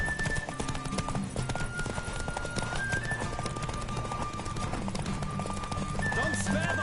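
Hoofbeats of Roach, the horse in The Witcher 3, galloping steadily through a race, a fast clip-clop rhythm under game music and ambience, with a whinny near the end and some talk over it.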